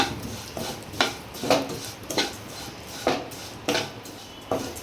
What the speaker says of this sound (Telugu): సేమియా వేగించుకుందాం. కొంచెం ఎర్రగా వేగించుకుంటే బాగుంటుందండి పాయసం.